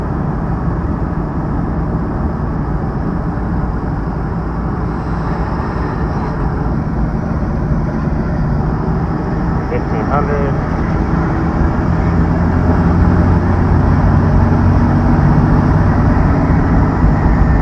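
A 12-valve Cummins turbo diesel engine drones steadily under light throttle, a loud continuous low rumble that swells slightly toward the end, with no talk over it.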